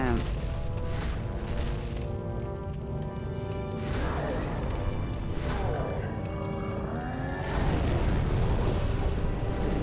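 A huge explosion in the video game Demon's Souls rolls out as a long, loud, rumbling blast with crashing debris and repeated booming swells, while someone talks excitedly over it.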